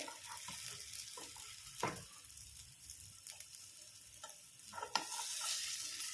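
Masala-coated fish pieces frying in a pan over a low flame, a soft continuous sizzle with several scraping and tapping sounds as a utensil turns the pieces, close and quiet with no talk.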